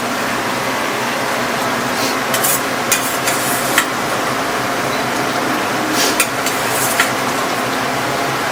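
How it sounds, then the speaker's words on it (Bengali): Prawns sizzle and hiss in a hot pan as they are stirred for a pointed gourd and prawn curry, a steady close frying noise with occasional scrapes and clinks of the spoon, no voices. "এখন আমি চিংড়িগুলো দিয়ে দিচ্ছি। এখন চিংড়িগুলো চলে যাচ্ছে।"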